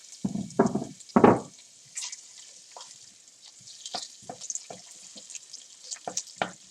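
Sliced onions, garlic and ginger fry in a pan for a potato and lamb curry, giving a soft hiss of sizzling with several louder bursts and scattered stirring scrapes close by.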